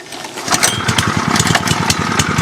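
A small petrol plate compactor engine, started on choke with a pull cord, sputters into life and settles into a loud, rough, rapid chugging run close by.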